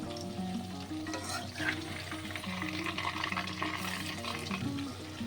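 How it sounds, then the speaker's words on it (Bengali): Chicken pieces fry in a pan on a home stove with a steady, close sizzle and crackle of hot oil. Occasional scraping and stirring sounds mark the pieces being turned, and there is no talking. "এদিকে চিকেনগুলো তো ভাজছি, একটু উল্টে উল্টে দেবো।"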